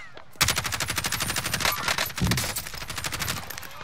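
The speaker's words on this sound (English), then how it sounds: "I'm getting shot at by somebody else" Rapid automatic gunfire in the battle-royale video game Call of Duty: Warzone, a fast regular stream of close, punchy shots lasting several seconds with a brief heavier burst midway.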